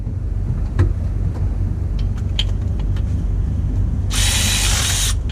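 Bolts being tightened by hand on a DAF XF MX-11 crankcase breather: sparse metallic ticks and clicks over a steady low engine-bay rumble, then a louder rasping ratchet burst near the end.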